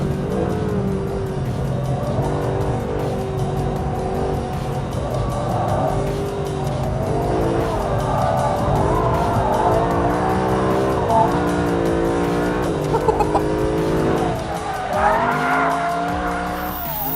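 A Mercedes SLS AMG Black Series slides on track with sustained, loud tyre squeal over a steady, droning engine note that rises and falls as it is backed in on the brakes and caught.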